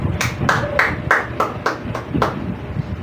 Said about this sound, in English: let's give a round of applause for Group 2